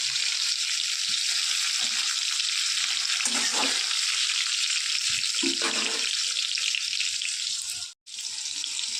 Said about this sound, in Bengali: এবারে টমেটোটা দিয়ে দেবো পেঁয়াজ দেবো না টমেটো দিয়ে আজকে ডাল করবো